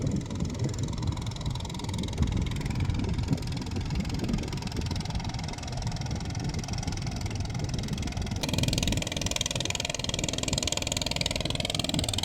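The engine of a medium-sized fishing boat heading out along the Pattani River toward the Gulf of Thailand idles with a steady, knocking chug, a constant low drone heard up close with water and wind noise around it.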